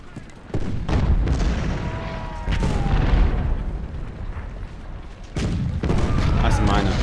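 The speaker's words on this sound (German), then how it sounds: "Hier Kanonen gehört." Booming cannon fire rolls through a Civil War battle at Cross Keys in the video game Ultimate General: Civil War, several heavy reports recurring across the scene and blending into a dense battle rumble.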